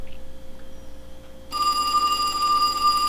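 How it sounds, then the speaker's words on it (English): A telephone begins ringing partway through, a steady electronic ring that stays close and continuous after a quieter room-tone start. "And there's a phone call."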